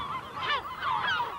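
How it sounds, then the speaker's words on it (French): Seabirds calling on Berlenga island off Portugal: two loud honking, goose-like cries close by, one after the other, with no voices. "C'est déjà une île du large et les oiseaux de mer le savent bien, une des plus belles réserves"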